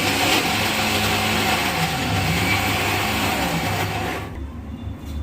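Mixer grinder blending coconut, onion and tomato into a paste, a loud steady motor whir with grinding texture running continuously before cutting off near the end.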